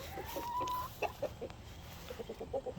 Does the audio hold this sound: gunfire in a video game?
no